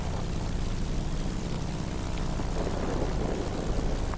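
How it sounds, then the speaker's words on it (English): An enemy bomber drones overhead during a video game attack, its propeller engines giving a loud, continuous, close roar with no pauses. "Their bomber is attacking us"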